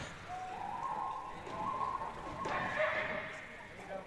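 A spectator at a high school boys basketball game whistles a bird call, a human imitation of a bird, rising over the arena crowd noise in a few drawn-out tones.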